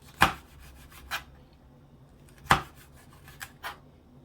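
A knife cutting through ackee fruit, careful of the seed, making a few separate scraping strokes: two sharp, louder cuts with lighter rasps between them, close up and otherwise quiet.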